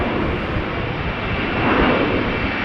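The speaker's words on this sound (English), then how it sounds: "that's one of the A321neos humbly following the Queen" An Airbus A321neo jet at Amsterdam Schiphol Airport gives a steady, broadband engine roar that swells slightly toward the end, with no voices.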